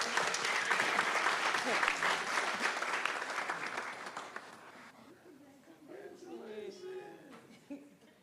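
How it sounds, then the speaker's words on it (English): A public meeting audience breaks into loud sustained clapping that gradually thins and fades, with a few chuckles and voices rising as the applause dies down. "Give another round of applause."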